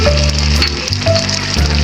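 Loud, steady bubbling and sizzling from a pot of Bicol laing on high heat, a dense continuous cooking sound with low hum underneath, no voices.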